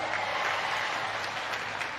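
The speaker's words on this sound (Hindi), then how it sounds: "सब तालियां बजा के स्वागत करेंगे फिर सबका।" Crowd applauding at a political rally in Gujarat for the Punjab chief minister, a dense, steady wash of clapping that stays even throughout and ends abruptly.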